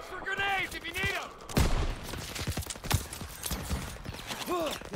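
Heavy gunfire in the Call of Duty WW2 veteran campaign, with rapid bursts and sharp shots crackling through a busy battle while soldiers' voices shout orders over the shooting.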